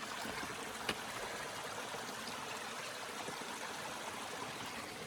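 Clear spring water runs at Novio Springs along the Butterfly Trail on Mt Lemmon, a soft, continuous trickling flow, fairly faint and unbroken, with no voices over it.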